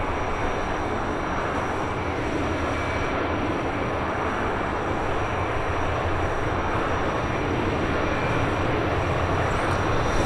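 Steady roar and whine of a MiG-15 jet engine running in Microsoft Flight Simulator, a constant dense broadband rush with a faint high tone on top, unchanging for the whole stretch and free of speech.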